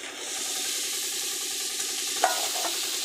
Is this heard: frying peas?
yes